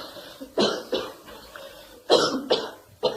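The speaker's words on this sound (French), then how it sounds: "La dame qui tousse, là. Entendez?" A woman coughs in several short bursts, two clusters of hacking coughs separated by a quiet pause, close by.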